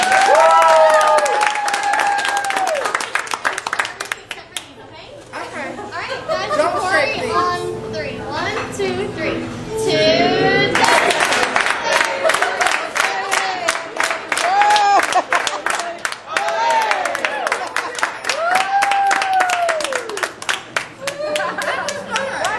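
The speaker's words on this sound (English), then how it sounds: "Make it a round of applause" Birthday party crowd in a house clapping and cheering for a friend turning 25, with loud, near applause mixed with shouts, chatter and talking voices throughout.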